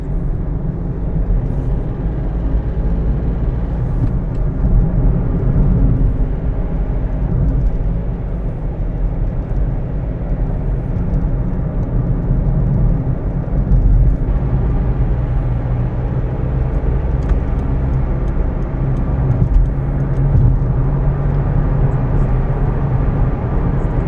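A Toyota Aygo cruises on a UK motorway, its engine drone and road roar filling the cabin as a loud, steady low rumble with slight swells throughout.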